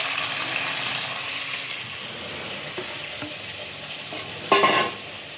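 Tomatoes fry in a pan with a steady soft sizzle. Near the end a louder burst comes as they are stirred and scraped.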